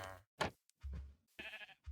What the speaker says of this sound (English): Got a sheep.